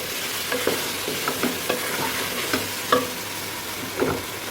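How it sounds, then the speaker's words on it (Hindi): Chicken malai karahi sizzles in a pan while being mixed, a continuous frying hiss punctuated by regular scraping and tapping strokes of a spoon, close and fairly loud, with no talking. "अब इसको अच्छे से मिक्स करेंगे।"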